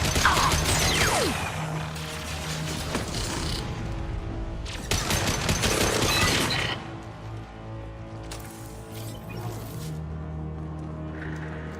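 Sci-fi gunfire in the video game Mass Effect 2: dense bursts of rapid mechanical shots and clattering impacts come in loud waves, easing into quieter scattered hits and a low hum.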